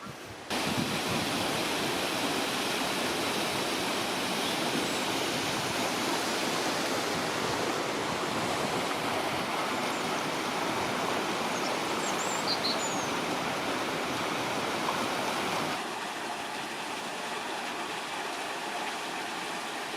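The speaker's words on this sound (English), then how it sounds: "there's still water flowing down into the next pound" Water pours steadily over a weir from one canal pound down into the next near Stourbridge, a loud continuous roaring rush that eases slightly near the end, heard alone without talk.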